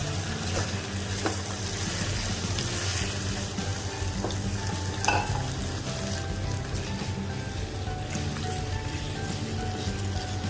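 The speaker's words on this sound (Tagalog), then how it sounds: "Stir lang natin ang onions." Onions sizzle as they are stir-fried in a pan for a beef stir fry, a constant frying hiss with scattered crackles and soft scraping from stirring, with no talk over it.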